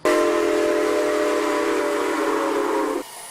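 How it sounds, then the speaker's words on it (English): A steam locomotive's whistle blows one long, loud, steady blast for about three seconds, then cuts off abruptly, leaving faint background noise. "Just hearing that whistle from far away brings people to tears."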